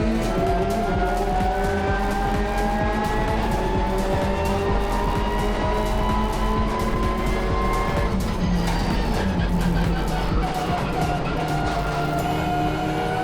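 IMSA race cars roar away at the green-flag start at Mid-Ohio, engines howling loudly and continuously with rising and shifting pitches as the pack accelerates, and a faint tire squeal along the way.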